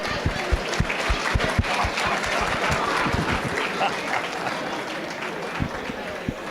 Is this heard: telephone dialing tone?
no